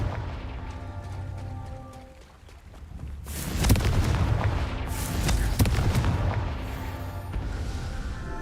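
A Confringo blasting spell explodes in Hogwarts Legacy: a loud, broad booming blast erupts partway through and rumbles on with crackling debris, following a quieter stretch of ambient game sound.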